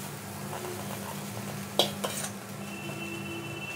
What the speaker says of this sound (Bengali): এবার সুজিটা দিয়ে আমি নাড়ছি